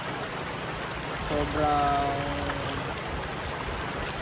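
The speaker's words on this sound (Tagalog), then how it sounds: "Ang sarap umupo dito habang pinapakinggan yung agos ng tubig" Flowing stream water, a steady broadband rush throughout, with a person speaking briefly over it.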